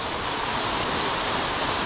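Buderim Falls pours in a constant, even rush of falling water, loud and unbroken, with no other sounds over the short stretch.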